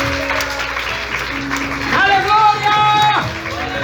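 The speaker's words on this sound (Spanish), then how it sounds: "Dale los aplausos." A church congregation breaks into applause, a dense wash of clapping mixed with voices and a sustained tone of music running underneath, growing louder midway and continuing steadily to the end.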